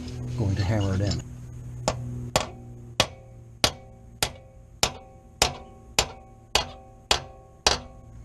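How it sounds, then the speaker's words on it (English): A voice speaks briefly, then a hammer drives a Rennsteig screw extractor into a metal piece about a dozen times in a steady rhythm, each sharp ringing tap fading quickly. "now we are going to hammer it in."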